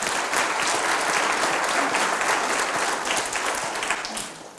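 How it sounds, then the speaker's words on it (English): Audience applause at a healthcare symposium in St. Tammany, dense steady clapping from a crowd lasting several seconds, fading slightly toward the end. "So let's give all of you a round of applause."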